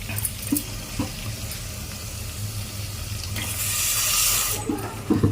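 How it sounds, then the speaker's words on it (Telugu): Running water splashes steadily from a tap into a mixer jar being rinsed, swelling louder midway, with a few light clinks and knocks around it. "ఇంకో గ్లాసు మిక్సీ కడిగి నీళ్ళు వేసుకున్నాను"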